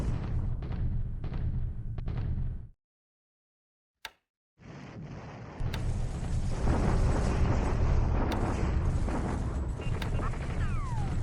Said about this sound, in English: It's pretty strong counter bombardment there.